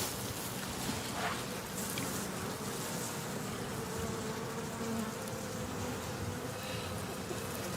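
Honey bees buzz steadily and densely around an open hive during early spring feeding, a close, constant drone with no pauses.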